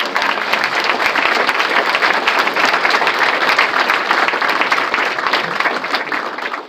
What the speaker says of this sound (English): I think they should get a round of applause for that